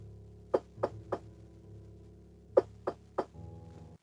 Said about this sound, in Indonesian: Dua kali ketukan itu terdengar.